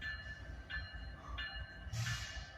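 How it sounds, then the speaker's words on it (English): A train on the main line out of Greenwood passing close by, its crossing bell ringing steadily in repeated tones over a low rumble of rolling wheels, with a brief louder burst near the end. "Bell's still ringing because he blew the horn at me."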